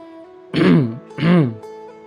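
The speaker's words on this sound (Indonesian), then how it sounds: "Yang pertama dengan berdehem-dehem." Two deliberate throat clearings, close and fairly loud, each a short rasping 'ahem' separated by a brief pause.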